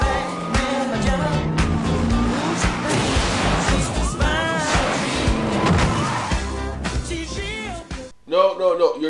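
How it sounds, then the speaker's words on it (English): A freeway car chase in the Supergirl pilot, a roar of engines and screeching tires with bangs and crashes in a busy action mix, ending abruptly in a short burst of voices. "There's a car chase on the 112 freeway."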